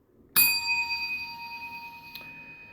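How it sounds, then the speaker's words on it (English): A single bright bell ding strikes sharply and rings on with a clean sustained tone, fading slowly, with a faint second tap near the end. "The bell always makes me happy."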